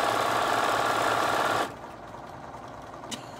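A Bernina sewing machine runs in a steady loud whir for about a second and a half, then stops abruptly, leaving a low background hum and a faint click.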